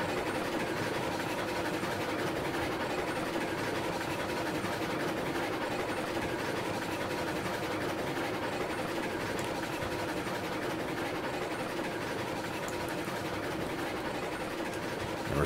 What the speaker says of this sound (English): I'm gonna be listening for the uh, the chuffing to start lugging.